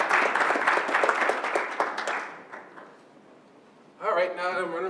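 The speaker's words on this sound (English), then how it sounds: "So let's give the Ernest Flagler's family a round of applause." An audience at a Rochester Board of Education business meeting applauds the Ernest Flagler family with dense clapping that fades out. After a short quiet gap, a voice starts speaking.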